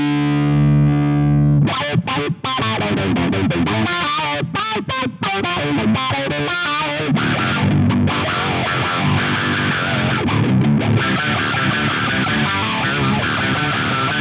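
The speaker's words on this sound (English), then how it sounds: "I'm using the envelope filter type at the stock settings to get you some massively funky sound." Heavily distorted, funky electric guitar riffing through a Fractal processor's octave effect with an envelope filter at stock settings, loud, thick and continuous after a short sustained chord, with no talking.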